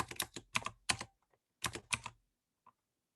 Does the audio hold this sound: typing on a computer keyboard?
yes